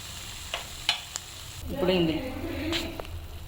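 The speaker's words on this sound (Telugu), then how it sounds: "ఫ్రై చేసిన మష్రూమ్స్ వేసుకున్నాము. వేసుకొని ఒక 2 minutes ఫ్రై చేసుకున్నామండి." Mushrooms fry and get stirred in a pan for a dabha-style mushroom curry, with a steady sizzle and a few sharp clicks of the spoon against the pan, close by, and a faint voice in the background.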